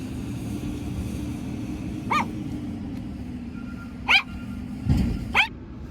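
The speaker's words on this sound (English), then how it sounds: "Look, she's still barking." A few distant dog barks, spaced irregularly over a steady low background rumble, with no one talking.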